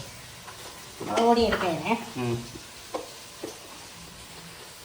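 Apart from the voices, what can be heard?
onions sautéing in a pan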